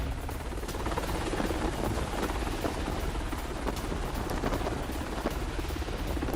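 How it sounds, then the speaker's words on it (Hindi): Helicopters flying over the aircraft carrier USS Abraham Lincoln, a dense continuous rotor roar with rapid thumping, loud and steady throughout without any voices. "हेलीकॉप्टर लगातार उड़ान भर रहे हैं।"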